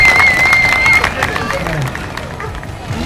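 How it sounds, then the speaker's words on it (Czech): A crowd gathered in a garage at a Trabant car meet in Moravia breaks into loud, sustained applause, with babble and voices underneath and a tone ringing briefly at the start. "Obrovský potlesk"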